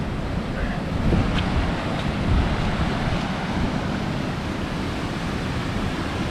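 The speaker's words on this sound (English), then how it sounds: "Excuse the noise of water running by, it's really noisy." Noisy water rushing along a river beside the Devil's Staircase path in Glencoe, a steady broadband roar filling the whole clip with no pauses.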